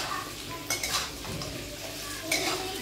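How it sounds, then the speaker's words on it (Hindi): Onion and potato fry together in a pan for a jackfruit and potato curry, with a soft steady sizzle and a few metallic scrapes and clinks of a spoon against the pan, close and brief. "ये मैं प्याज एंड आलू को एक साथ फ्राई कर रही हूँ"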